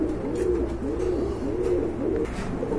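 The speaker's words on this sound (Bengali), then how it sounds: "এটা হচ্ছে ব্ল্যাক কবুতর, ব্ল্যাক বোম্বাই" A pair of black Bombay pigeons coos up close, a loud repeated rolling coo about every half second over a low background hum.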